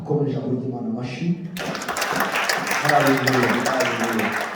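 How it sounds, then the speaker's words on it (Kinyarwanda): A church congregation breaks into clapping partway through, a dense wash of applause that rises suddenly and carries on under a continuing voice. "dukomeje kuryimana amashyi."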